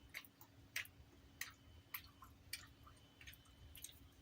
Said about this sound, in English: Pardon my chewing.